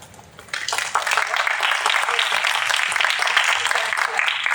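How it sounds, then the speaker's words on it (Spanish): An audience at an astronomy observatory lecture bursts into applause after a brief quiet start, steady crowd clapping continuing at moderate volume to the end. "Así que les pido un aplauso"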